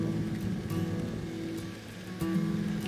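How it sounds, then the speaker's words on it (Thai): Steady rain hisses and washes around a Vespa GTS scooter ridden at night, a constant broad rush with a low engine drone beneath, no talking. "ขี่มอเตอร์ไซค์ตากฝนครับ"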